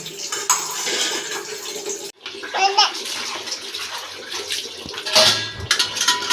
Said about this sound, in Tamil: பால் டப்பாவா கழுவுறீங்க ஐ நல்லா அழகாக தேய்ச்சி கழுவுறிய